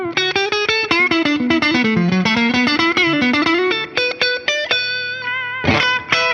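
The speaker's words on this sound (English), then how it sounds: "So it's classic vintage Strat tones" A clean, slightly bright Fender Player II Stratocaster on its neck pickup plays a flowing melodic phrase with chord stabs, warm and bell-like with light effects, filling the whole clip.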